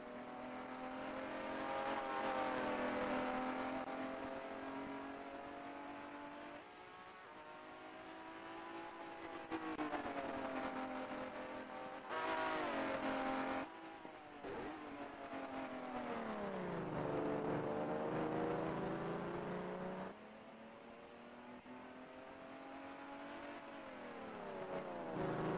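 Racing cars at the 1949 Pau Grand Prix roar around the track. Their loud engines rise and fall in pitch through repeated revs, gear changes and passes, with nobody talking over them.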